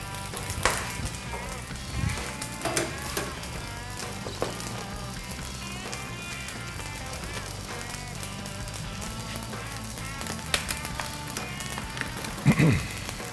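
Eggs frying sunny side up in a pan, a steady close crackling sizzle running throughout with occasional sharper pops and clinks.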